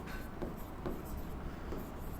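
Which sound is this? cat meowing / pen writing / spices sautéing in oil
pen writing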